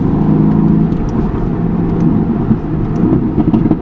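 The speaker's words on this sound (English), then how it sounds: "a very deep toned exhaust sound similar to this" A deep, throaty Mercedes-AMG GT-C V8 exhaust rumbling steadily, with rising revs and a few sharp pulses toward the end, close and loud.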